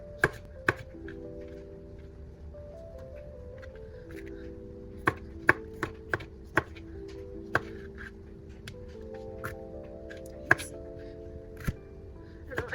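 A knife crushing and chopping food on a cutting board while sausage, peppers and onions are prepared, with sharp irregular chops and crunches over a low steady backdrop and soft tonal sounds.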